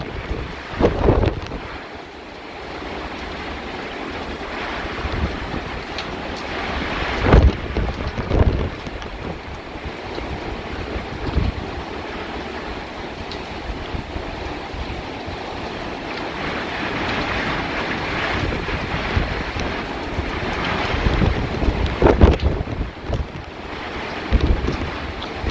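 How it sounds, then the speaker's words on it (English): Strong hurricane gusts from Hurricane Sally roar against the microphone in long, surging waves of broadband wind noise, rising and falling loudly over about 25 seconds with no talking. "Got some gusts coming."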